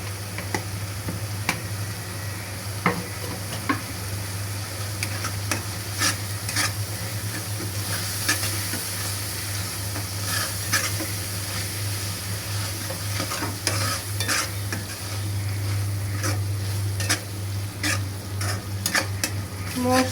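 Spices sizzle and fry in a pan while being stirred over lowered heat for a liver and potato bhuna curry, with a steady sizzle, scattered scraping and clinks of the spoon against the pan, and a low hum beneath.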